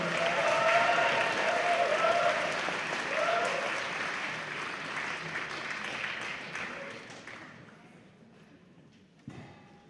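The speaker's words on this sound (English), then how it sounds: "Let's give a round of applause to Mrs. Lyons." Loud applause from a large audience at a school awards ceremony, sustained for several seconds and then gradually fading to quiet.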